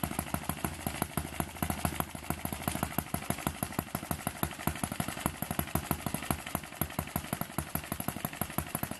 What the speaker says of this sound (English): You can hear it load up the motor.